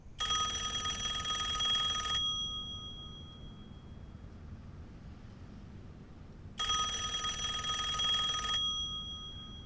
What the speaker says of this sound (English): Peter Lawford is on the phone